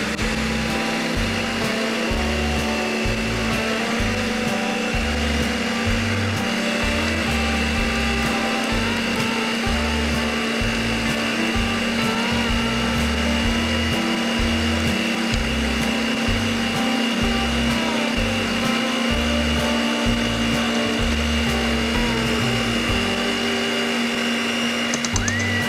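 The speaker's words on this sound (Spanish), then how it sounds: "vamos a hacer es batir todos los ingredientes hasta que se incorporen perfectamente" A blender beats leche asada batter ingredients with a steady, loud motor whir and a low churning rumble that runs unbroken from start to finish, with no voices over it.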